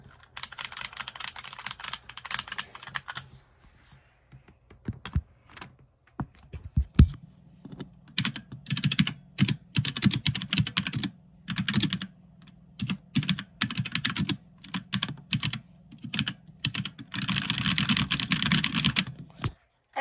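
HyperX Alloy Origins mechanical keyboard fitted with new white keycaps, typed on up close: bursts of rapid clacking keystrokes with short pauses between them and occasional heavier thocks, steady and alone without talk.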